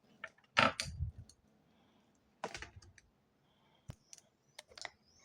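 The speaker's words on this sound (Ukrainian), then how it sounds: "Тепер ми відкриваємо пакетик з мандаринками." Crinkly plastic rustles in short bursts with quiet pauses between them, like a small packet of mandarin-themed capybara toys being handled and torn open up close.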